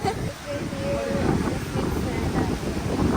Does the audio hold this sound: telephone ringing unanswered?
no